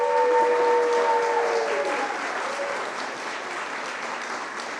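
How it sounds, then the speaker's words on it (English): An audience at an evening book talk breaks into sustained applause that is strongest at first and then eases off gradually. A faint tone lingers under the clapping early on. "So a round of applause for that."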